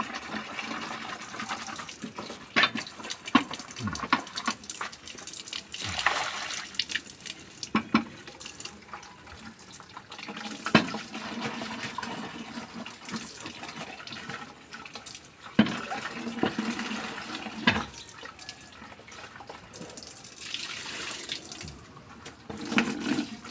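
Water running steadily from a tap during washing, a continuous splashing flow that swells and fades in places, with no voices.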